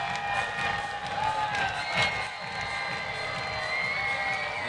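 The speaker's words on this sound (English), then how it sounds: "Crowd here inside Toyota Field." A baseball crowd at Toyota Field cheers and murmurs steadily, a distant, broad roar of voices with scattered whoops and claps filling the stadium.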